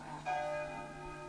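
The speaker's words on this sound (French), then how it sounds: "qu'est-ce qu'il leur prend de sonner les cloches en plein milieu de la semaine?" Church bells ring in the middle of the week, a faint, sustained metallic tone with lingering overtones that swells briefly, then slowly fades, heard from a distance with no talk.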